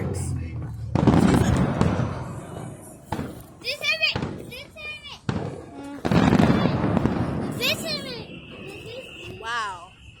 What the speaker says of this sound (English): Big fireworks.